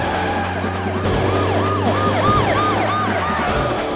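A police car siren wails behind a moving car, its rising and falling sweeps repeating rapidly over a low steady engine drone.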